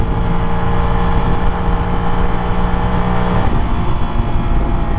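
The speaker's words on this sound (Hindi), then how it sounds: "आप ऐसे थ्रॉटल कम करते हैं" The engine of a Bajaj Freedom 125 CNG motorcycle hums steadily up close, then eases as the throttle is rolled off partway through, with no one talking.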